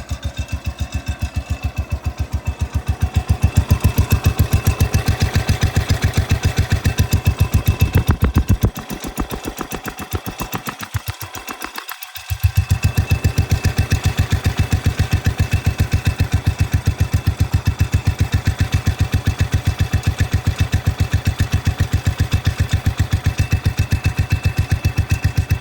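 A Cub Cadet 105 lawn tractor engine idles shortly after a cold start, a close, loud, steady chugging that briefly dips and wavers midway before settling back into an even rhythm.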